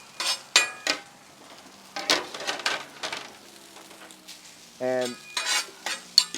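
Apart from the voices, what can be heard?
vegetables and noodles sizzling on a hibachi griddle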